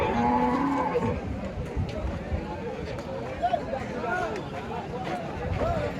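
Cattle low and moo repeatedly at a busy Bangladeshi beef market, with Friesian cows among them. The calls are near and loud, rising over a steady crowd babble and scattered voices talking throughout.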